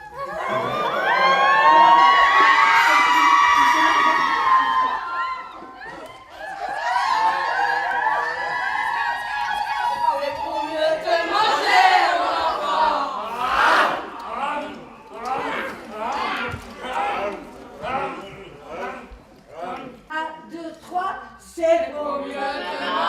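A group of people shout loudly together in a theatre exercise, a long burst of overlapping high-pitched yelling that fades, then returns as choppy shouted outbursts, nearby and energetic.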